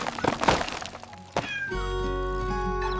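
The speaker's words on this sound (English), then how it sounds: "bicycle crashed straight into a hen's little home." A bicycle crashes into a hen's small house: a burst of thuds and cracking knocks over the first second and a half, ending in one sharp crack, then a steady sustained tonal chord rings on alone.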